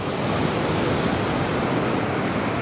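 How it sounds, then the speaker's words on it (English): Steady, dense wash of water with waves lapping on a warm, early morning, continuous and fairly close with no voices over it. "the sound of the water never gets old"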